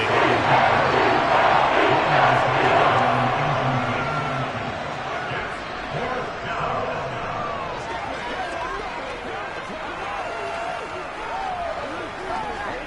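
Stadium crowd noise from a football video game during a big third down, a loud, dense roar that swells at the start and then eases to a steady background crowd murmur throughout.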